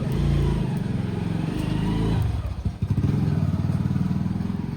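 A motorcycle engine idles close by with a low, steady rumble, briefly revving and chugging unevenly midway before settling back.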